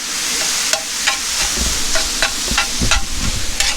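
Egg roll in a bowl fries in a pan over an outdoor campfire, a steady crackling sizzle with repeated scraping stir strokes and soft clinks close by, no talking.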